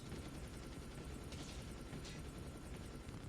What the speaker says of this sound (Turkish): Onların helikopteri mi bu bizim mi?